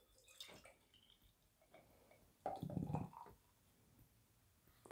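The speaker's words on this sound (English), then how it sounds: "let's pour it into the hashtag proper glassware" Tree House Emperor Julius double IPA beer is poured into a glass in a short, quiet gush of splashing and gurgling, with faint drips and handling sounds before and after.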